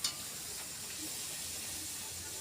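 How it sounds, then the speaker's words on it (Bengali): Luchi puffing in hot oil gives a soft, even sizzle and hiss that runs steadily and fairly faint, opening with one brief louder crackle. "এই দেখো আমি এই ফুলকো ফুলকো লুচি ভাজছি।"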